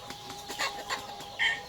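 Free-range village chickens cluck softly nearby in a few short, quiet calls, with a slightly louder squawk near the end.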